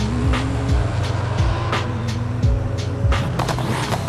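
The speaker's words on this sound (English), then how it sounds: "You can hear this car, like, idle, and it just sounds absolutely insane." A car engine in Forza Horizon 5 idles with a deep, throbbing rumble and uneven revs, punctuated by occasional thumps and clicks.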